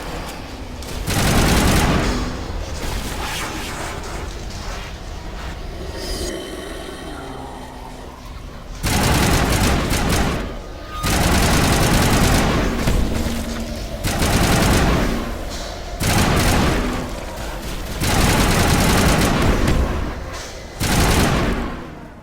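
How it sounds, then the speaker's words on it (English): Assault rifle fire in the video game Mass Effect, loud repeated bursts of automatic gunfire with short pauses between volleys, close and dominant, with no talking. "Bring out the assault rifle."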